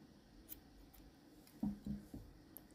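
Scissors snipping off excess yarn from a crocheted amigurumi bee: two or three quiet, close clicks of the blades in a near-silent room.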